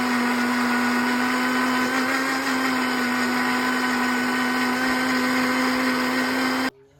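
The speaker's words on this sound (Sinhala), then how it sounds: "දැන් වතුර දාගත්ත මම මේ දෙකම එකට දාලා වතුර ඇති ප්‍රමාණයට දාගෙන බ්ලෙන්ඩ් කරගන්නවා" An electric blender whirs steadily as hathawariya leaves are blended with water, a loud, continuous motor drone with a constant pitch that runs unbroken for nearly seven seconds before cutting off abruptly.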